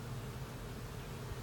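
A honey bee swarm being moved from a trap into a new colony, giving off a steady, dense, close-up buzz of many bees that runs without a break and has no voices over it.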